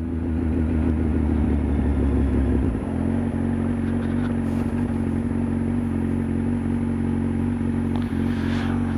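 A motorcycle rides fast through a flooded dip in the road, its engine droning loud and close before dropping in pitch, then running on steadily under wind rumble with a few clattering knocks.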